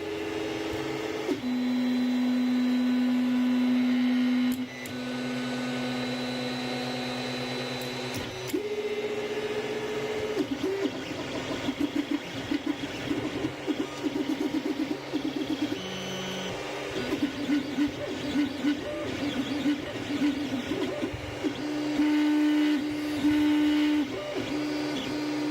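A Creality CR-10S 3D printer runs a print, its stepper motors giving changing whining tones and rapid chattering movements, steady and close throughout.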